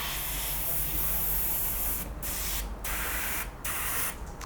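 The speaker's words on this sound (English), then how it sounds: "I've got a bit of paper, so I'll show you what it's going to look like when we actually spray something" An airbrush sprays black paint onto paper in a steady, close, loud hiss that cuts out briefly several times as the trigger is released and pressed again.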